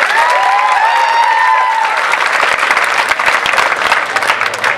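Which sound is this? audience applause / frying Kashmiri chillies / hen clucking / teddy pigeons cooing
audience applause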